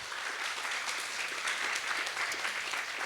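An audience at a poetry slam regional final applauds a poet with dense, steady clapping that holds evenly for the whole stretch.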